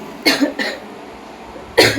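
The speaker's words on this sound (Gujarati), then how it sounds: "ઉધરસ થઈ ગઈ છે" Three sharp coughs, the first two close together and a third after a pause, fairly loud and near.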